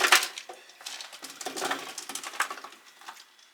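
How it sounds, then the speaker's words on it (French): Vegetables are kneaded by hand with a marinade in a bowl, making soft, close, wet squelches and light irregular pats, with a sharper clink at the start. "Je vais venir malaxer à la main parce que vu comme il est rempli"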